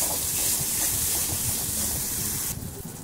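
Spiced masala with turmeric frying in a pan for Bengali potol dorma filling, a steady loud hiss and sizzle with faint scraping, easing off near the end.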